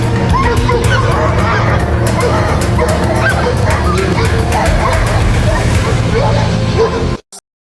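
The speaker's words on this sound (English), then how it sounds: "This polar bear or not, you're getting barked at." A dog barks loudly and continuously at a polar bear outdoors, the busy barking and yelping dense and close throughout before cutting off abruptly near the end.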